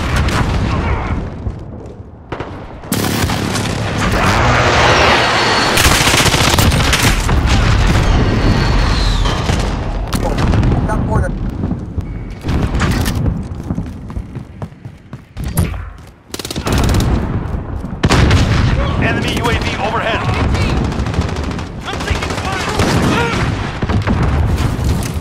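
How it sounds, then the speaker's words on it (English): Precision airstrike explosions in Call of Duty Modern Warfare, during team deathmatch, bring loud booming blasts mixed with dense bursts of gunfire that rumble almost without pause, with a few brief lulls. "Allied precision airstrike incoming."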